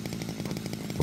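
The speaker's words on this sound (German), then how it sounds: "Der unheimlich laute Kettensäge." A chainsaw in the video game House Builder runs steadily at full throttle while felling a tree, a close, rough buzzing drone with a rapid pulsing rhythm and nothing else around it.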